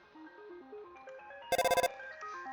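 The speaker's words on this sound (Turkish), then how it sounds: "Arayan kimse sen daha telefonu cevaplamadan telefonu kapattı." Undertale video game phone ringtone: a quick burst of about six bright electronic rings in a row, loud and clear over the game's soft chiptune background music.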